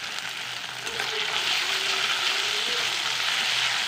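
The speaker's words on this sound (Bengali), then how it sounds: "আদা রসুন বাটা দিয়ে ভালো করে কষে নেব" Ginger and garlic paste sautés in a pan for an egg curry, giving a continuous loud sizzle that swells slightly after the first second, with soft scraping from stirring and no talk.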